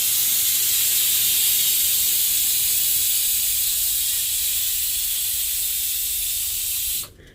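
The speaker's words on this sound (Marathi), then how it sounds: "आता 2 शिट्टी येईपर्यंत आपण ह्यांना शिजवूया" Pressure cooker hissing steam while drumstick (shevga) curry cooks: a steady, loud, continuous hiss holds for about seven seconds, then cuts off abruptly.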